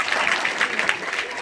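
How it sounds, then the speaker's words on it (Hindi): An audience at an intercollege event claps together in a dense, steady burst of applause, loud and close, with a voice faintly mixed in. "ताली बजाइए।"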